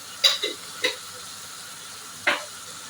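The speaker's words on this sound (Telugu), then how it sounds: "గోల్డెన్ బ్రౌన్ వచ్చేంత వరకు వేయించుకోవాలి." Potatoes and capsicum frying with salt and turmeric: a low, steady sizzle with a few brisk stirring scrapes, two close together at first and one more after a pause.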